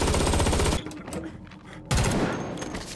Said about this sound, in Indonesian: kontak senjata di antara mereka.